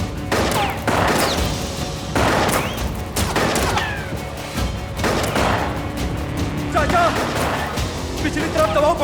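Bursts of gunfire crackle through a battle scene from the historical drama Payitaht Sultan Abdulhamid, volleys repeating every second or so, loud and close, with shouting voices mixed in between the shots.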